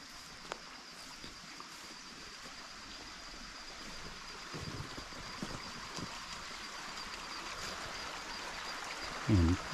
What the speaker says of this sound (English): The creek is over here to the right.